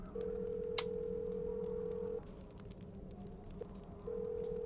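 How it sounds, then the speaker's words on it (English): Telephone ringback tones from a call placed inside the Nancy Drew game The Captive Curse, set at a German castle: a long steady tone, a pause, then the tone starting again, with a brief beep partway through, heard alone and fairly faint. "Okay, we're gonna call Frank and Joe"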